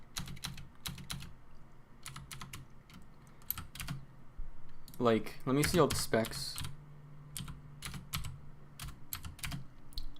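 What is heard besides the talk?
typing on a computer keyboard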